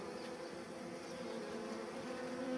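Honeybees buzzing around a freshly released queen bee, a soft continuous hum of many wings close by.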